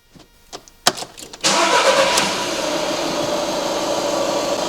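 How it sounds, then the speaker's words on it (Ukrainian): A car engine cranks briefly with a few starter clicks, then catches and settles into a steady, loud idle during a cranking test with a Launch BST360 battery tester; no talking. "І тепер просить запустити нас автомобіль."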